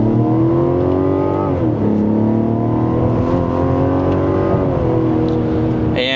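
A 2026 Mazda CX-70 Turbo S Premium Plus in sport mode and second gear accelerates at full throttle, its engine loud and close as the revs climb steadily, dip briefly at a shift, then keep rising under sustained power.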